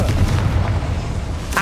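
A Bombarda spell goes off in the Hogwarts Legacy video game, a single loud booming blast at the start that rumbles and fades over a second or so, with a brief sharper burst at the end.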